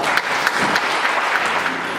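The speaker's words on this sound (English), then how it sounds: "that deserves a round of applause" Audience applause at a community gathering on gentrification and public health: a dense, steady wash of many hands clapping together, filling the full two seconds at a consistent level with no voices standing out.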